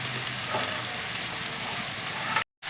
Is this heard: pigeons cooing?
no